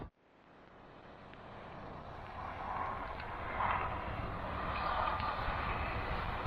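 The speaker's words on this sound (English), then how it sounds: "you can hear some traffic down below on the highway, ricocheting off the rocks of these hills" Distant highway traffic echoes off rocky hillsides below a trail, a steady, faint, diffuse rumble and hiss that swells slowly with no voices.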